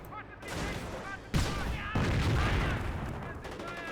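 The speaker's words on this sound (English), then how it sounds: "Bren's firing." Bren machine gun fire in a Company of Heroes battle, rapid crackling bursts layered with other gunfire and explosions in a busy, continuous soundscape with a voice talking over it.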